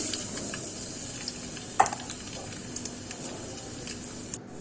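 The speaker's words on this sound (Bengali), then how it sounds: "এখন দিয়ে দিব পেঁয়াজ কুচি।" Chopped onions sizzling in hot oil in a cooking pot over a high flame, a steady broadband fry hiss with one sharper crackle burst early on and faint stirring scrapes, no talking.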